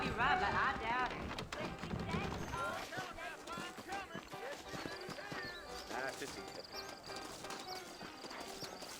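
Saddled horses' hooves clip-clop steadily in a Western open-world game (Red Dead Redemption), moderately close, with a horse whinny early on and game characters talking over much of it.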